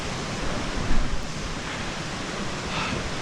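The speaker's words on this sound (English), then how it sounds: "Alberta Falls is right here." Alberta Falls, a mountain waterfall, gives a steady, dense rushing roar of falling water, constant and fairly close, with no voices.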